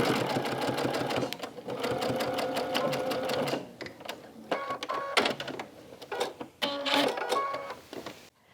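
Sewing machine stitching a quilt cover strip in machine quilt-as-you-go work, running in close, loud bursts of rapid needle chatter broken by brief pauses and handling sounds.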